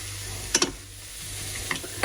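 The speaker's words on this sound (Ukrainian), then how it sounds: "Відправляємо у пательню до цибулі. Гарно перемішуємо." Grated carrot sizzles with onion in a frying pan, a soft steady crackle broken by a few sharp clicks and scrapes as a utensil stirs against the pan.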